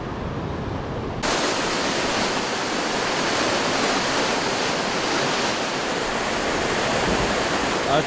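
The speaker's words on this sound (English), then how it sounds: "That's the waterfall where we camped on the first night." A wilderness waterfall near a riverside campsite roars as a steady, dense broadband rush that starts abruptly after a second of quieter ambience and holds unchanged.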